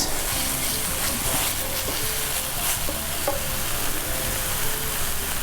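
Minced garlic sizzling in a pot for lasagna soup, with steady bright frying hiss and occasional stirring scrapes and clinks throughout, fairly loud and close with no talking.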